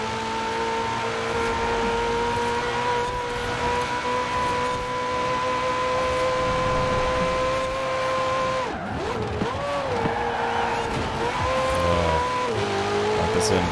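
A race car driven hard in the Forza Horizon 4 video game, its engine holding a steady, loud whine, then dipping and surging as it brakes into a corner and accelerates out, under continuous talk.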